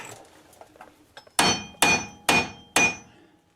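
A hammer strikes the rear wheel bearing hub of a Chevrolet Traverse four times in steady succession, sharp ringing metallic blows after some faint lighter taps, close and loud.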